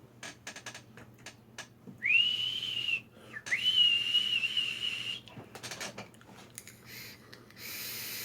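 A thin, high airflow whistle from a Joyetech eVic e-cigarette rises and wavers in two bursts of a second or so each, with a faint breathy draw around it and no talking.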